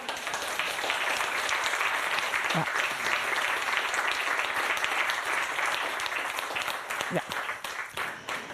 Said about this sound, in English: So we can applaud now,